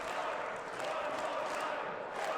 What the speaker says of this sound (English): This crowd want more.